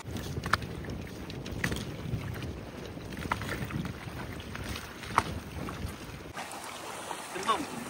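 A boat moves through the water of the Matla river on a windy day, its steady wash and wind rumble continuous and fairly close, with bursts of distant voices over it.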